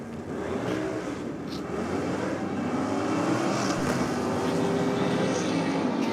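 A Chevrolet S-10 style Rodeo drag truck with a 408 LS and nitrous launching off the line at a drag strip, a loud sustained engine roar that builds and holds across the run, no talk.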